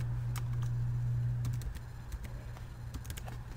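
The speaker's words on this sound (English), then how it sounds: "I'm going to go ahead and type my name here in all caps." Fingers typing on a computer keyboard, a scatter of light, quick key clicks with uneven rhythm, close and fairly faint over a low steady hum.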